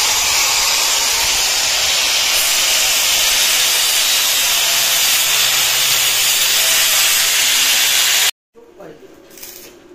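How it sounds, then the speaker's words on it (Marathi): Welding on a car hood's body structure gives a loud, steady crackling hiss that runs unbroken for about eight seconds, then cuts off abruptly into a quiet, faintly noisy room. "आता ही बॉडी स्ट्रक्चर बनतंय, वेल्डिंग चालू केलेली आहे"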